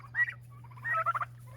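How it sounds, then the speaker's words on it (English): Young rooster around eight weeks old crowing in a backyard garden: two short, uneven, breaking crow bursts a moment apart, fairly close, over a steady low hum. "There's the rooster. He's already crowing."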